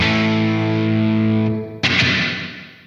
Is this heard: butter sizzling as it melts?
no